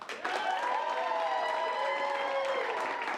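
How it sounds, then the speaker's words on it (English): An improv comedy show audience applauds to vote for a movie, with full, continuous clapping and whooping cheers held steadily for a few seconds. "For Bill's movie, please applaud now."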